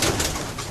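A pigeon coos briefly and close by inside a racing-pigeon loft, a short soft throaty call over a dense, noisy background.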